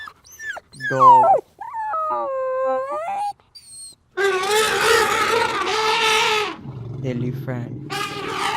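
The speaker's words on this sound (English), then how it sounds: "dog," A dog howls in long, rising and falling wails, then breaks into a louder, rougher howling stretch, ending with lower whimpering tones, close and prominent.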